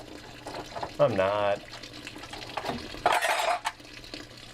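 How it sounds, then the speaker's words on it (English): A water tank empties with a gurgling, bubbling rush of water in two short bursts, moderately close, amid people talking. "It's the water tank emptying."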